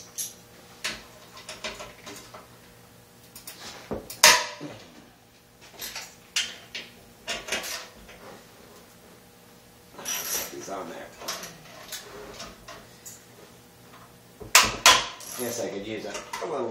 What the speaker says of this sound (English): Guess I could use a little bit bigger socket, but it'll get it.